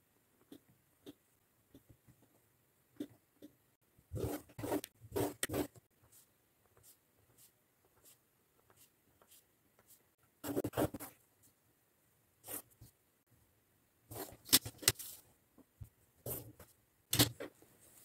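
Pen ruling lines across paper to draw a grid on a folder, heard as short scratchy strokes in irregular clusters, some louder bursts, close and alone with no talk.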